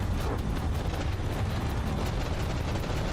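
Cannon shells firing and impacting during a naval battle in the game From the Depths: dense, continuous low rumbling barrage of rapid booms and blasts, loud and unbroken, with no talking.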